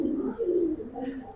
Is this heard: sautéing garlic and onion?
no